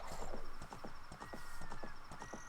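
Horse hooves clip-clop in a quick, steady trotting rhythm in the game Ocarina of Time, close and continuous under a faint high tone.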